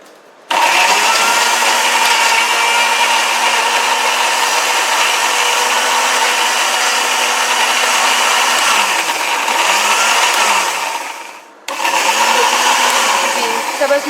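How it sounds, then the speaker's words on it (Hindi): An electric grinder whirs loudly and steadily, blending green chilies with vinegar into a paste, with a brief dip in the motor hum before it picks up again. "सब्ज़ मिर्चें जो हैं वो हमारी अच्छी तरह से ग्राइंड हो चुकी है"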